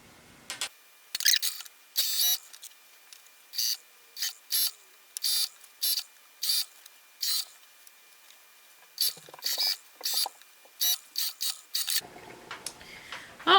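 A sewing machine stitches a bodice to a skirt along a 5/8-inch seam, running in short, close bursts of rapid mechanical whirring separated by brief pauses, with no talking.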